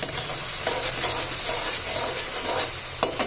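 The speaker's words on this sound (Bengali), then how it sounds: "পেঁয়াজটা এখানে ভালোভাবে ভেজে নিতে হবে" Onions frying in a generous amount of oil for Tangra fish curry, a steady close sizzle and hiss with occasional stirring scrapes, no voices over it.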